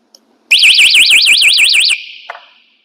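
A loud alarm horn wired to an IP camera sounds for about a second and a half, a rapid warbling electronic siren that stops abruptly and leaves a brief ringing tail.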